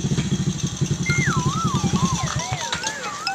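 An old, worn-out motorcycle engine sputters and chugs unevenly, as if about to stall, with a rapid irregular putter that fades out, while people talk and shout nearby in a comic scene.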